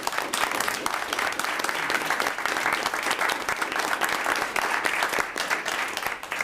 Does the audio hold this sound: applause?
yes